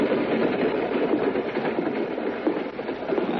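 Continuous rumbling rattle of a moving train on rails, a radio drama sound effect, steady and fairly loud with a dense clattering wash and no voices.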